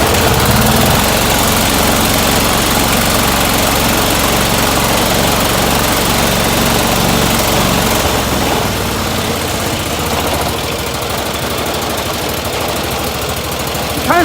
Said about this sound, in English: The John Deere will probably start.